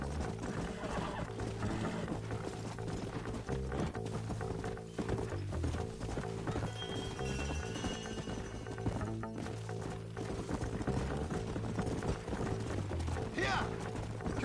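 Horses gallop in the Red Dead Redemption video game, their quick, steady hoofbeats running continuously amid other game sounds and a busy background mix.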